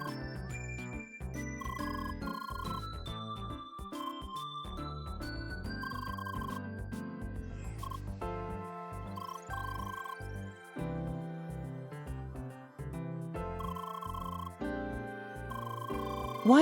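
A telephone ringing in the video game CrossCode, a synthetic electronic ringtone repeating in a busy melodic pattern over game music, steady and fairly loud throughout.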